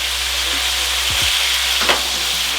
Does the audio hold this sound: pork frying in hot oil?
yes